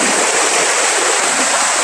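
A hill river stream rushes over slippery rocks in a steady, loud, close roar of flowing water with no break.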